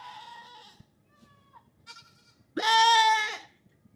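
A goat on a goat farm bleats several times: two softer wavering calls early, then a loud, harsh, drawn-out bleat near the end, close with quiet background between.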